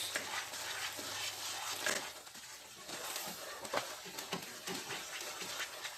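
Semolina halva stirred in a pan, a continuous close scraping and shuffling of the spoon through the grains with soft knocks against the metal.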